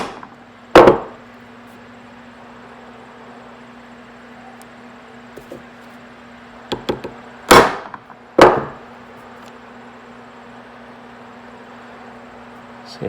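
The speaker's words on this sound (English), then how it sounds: "you want the force of the hammer to travel down the chisel to the piece of metal" A hammer strikes a chisel held upright against a piece of metal resting on a hard surface. There are a few sharp, loud metallic blows, one near the start and a tight cluster later, separated by quiet stretches.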